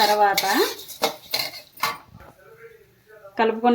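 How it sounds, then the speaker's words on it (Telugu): Spices for curry powder being mixed in a pan, metal spoon clinks and scrapes against the pan in short bursts, close by, with a voice speaking between strokes. "వేసేసుకొని ఒకసారి చక్కగా ఇటు అటు కలిపేసుకోండి."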